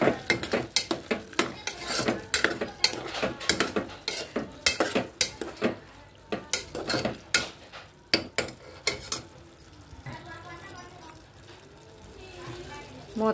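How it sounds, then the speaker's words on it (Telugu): A spoon stirs mutton and drumstick curry with masala in a pot, with repeated scraping and clinking strokes and a faint sizzle beneath. The sound is close and rhythmic, with a quieter bubbling stretch toward the end. "ఇప్పుడు ఒకసారి కలుపుదాం."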